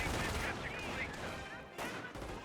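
Machine gun suppressive fire from a structure in the World War II strategy game Company of Heroes, a dense continuous crackle of gunfire mixed with battle noise and distant blasts, fairly loud throughout.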